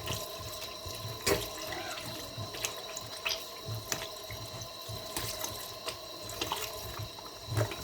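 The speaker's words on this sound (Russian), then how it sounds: "Купаем тесто. Вымываем крахмал, называется." Dough is rinsed and kneaded in water to wash out its starch, giving faint splashing and dripping under a steady running-tap hiss, with occasional louder sloshes.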